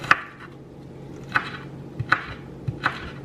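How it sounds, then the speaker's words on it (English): Four sharp knife chops through an onion on a cutting board, spaced unevenly with short pauses between them, close up and fairly crisp. "look at my onion chopping skills"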